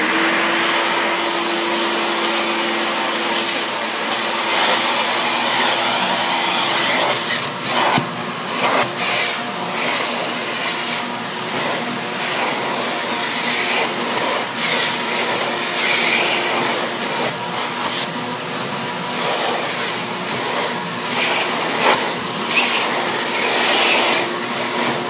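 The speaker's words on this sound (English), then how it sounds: "So I'm going to start with the shop vac, and we'll do a little bit of vacuuming on the carpet." A shop vac runs over carpet with a loud, steady whooshing roar that holds for about 25 seconds, its pitch shifting slightly as the nozzle moves, with no talking.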